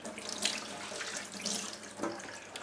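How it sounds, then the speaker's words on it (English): Hot water runs from a kitchen tap into a sink, a steady close splashing stream lasting a few seconds with no voices. "Now I've just got to run some hot water here."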